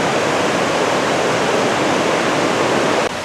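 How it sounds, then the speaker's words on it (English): The Ohanapecosh River runs high and hard near Silver Falls at Mount Rainier, its white water a loud, steady broadband roar that continues without a break. "the Ohanapecosh is flowing pretty high today and pretty hard. A lot of white water."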